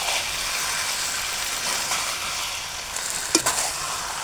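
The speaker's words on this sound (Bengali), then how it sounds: "এই মশলার সঙ্গে মাংসগুলো একবারে ভাজাও হয়ে যাবে" Broiler chicken pieces fry in oil with spice paste for chicken kosha, a dense close sizzle that holds steady, then a couple of sharp utensil knocks near the end.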